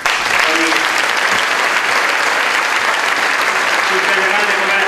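Strong applause from a crowd at a political party's candidate presentation in Villarreal, a dense, loud, continuous roar of clapping throughout, with faint voices mixed in.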